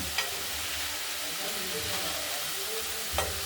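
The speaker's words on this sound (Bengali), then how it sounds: "একটু ভাজা ভাজা ধরনের পোড়া পোড়া ভাজা হবে" Potato and cauliflower pieces sizzle and crackle in hot oil in a wok with steady hiss, punctuated by a few sharp scrapes of stirring.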